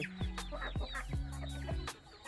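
Chickens clucking in a backyard coop that also keeps ducks, laying hens and fighting cocks: several short, close clucks and squawks in an irregular rhythm, with no talking.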